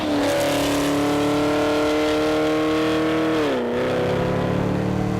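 A Hennessey-tuned 700 HP Chevrolet Camaro ZL1 drives with its engine droning loud and steady under load, then the pitch drops as it eases off and builds again, heard from inside the car.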